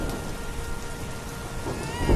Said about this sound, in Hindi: पानी बरस रहा